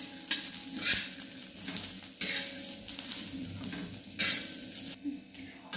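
Dhapate flour mixture roasting in a little oil, with a steady sizzle beneath repeated scraping strokes of a spatula against the pan, close and continuous, with no one speaking.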